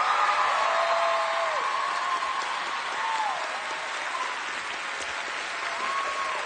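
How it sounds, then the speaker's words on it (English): Studio audience applause on a television singing contest show, steady loud clapping throughout, with a sustained tonal melody line and occasional cheers riding on top. "A big round of applause for everybody."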